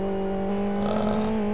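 Race car engine in a racing video game holds a steady high drone during a fast qualifying lap, a continuous close whine with slight pitch rise and no pauses.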